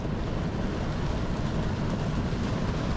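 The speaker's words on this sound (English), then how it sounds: "That's a lot of rain." Heavy rain falls outside during stormy tornado weather, a dense, steady roar of broadband noise that stays constant and fairly loud for about three seconds, with no voices.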